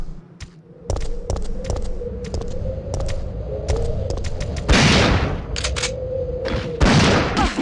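Gunshots in Resident Evil 3, a string of sharp, loud reports spaced irregularly over a rumbling game backdrop, with heavier blasts in the middle and near the end.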